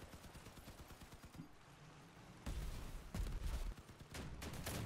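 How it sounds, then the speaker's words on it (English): Shotguns fire in the vehicle combat game Crossout, with heavy, booming blasts at close range that come in quick bursts over a rumbling engine and constant mechanical noise. "Kind of funny how much damage the shotguns do up close."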